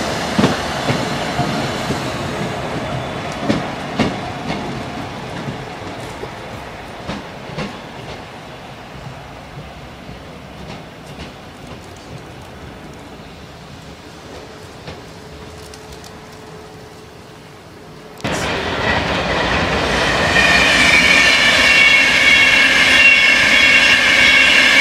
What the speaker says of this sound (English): It's a Virgin Super Voyager at crew. It's a Voyager. 221-122.